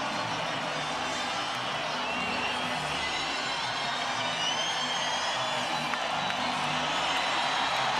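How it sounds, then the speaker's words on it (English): A packed boxing arena crowd cheers and roars as a fighter enters the ring for Pacquiao versus Morales, a continuous dense roar with whistles and whoops swelling slightly over several seconds. "The crowd erupts"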